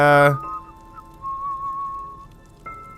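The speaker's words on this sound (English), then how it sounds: "with a weird whistling" An odd, thin whistling tone drifts on in the Enderal mod for Skyrim, wavering faintly over quiet ambience after a brief loud voice at the start.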